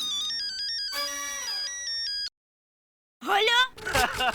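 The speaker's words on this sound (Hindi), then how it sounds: "वो कुटकुटिया का फोन है।" A mobile phone ringtone plays a loud electronic melody of repeating beeping tones, cuts off into a pause, then voices follow.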